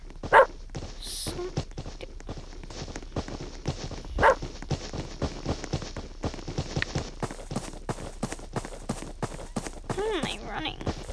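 A dachshund barks in a Roblox game, with quick clattering, footstep-like game sounds running throughout and a voice talking over it.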